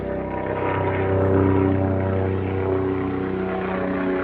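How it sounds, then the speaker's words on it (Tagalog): A helicopter passes overhead on a fine clear day, a steady loud rotor and engine drone with a low throbbing hum that swells slightly midway and holds throughout, with no talking. "May helicopter pa yata nga dadaan."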